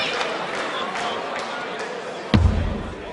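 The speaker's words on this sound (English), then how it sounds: "it's certainly a big cheer from the crowd" At a professional darts semi-final in a packed arena, a crowd murmurs under a commentator's voice, then bursts into a sudden loud cheer that lingers and fades.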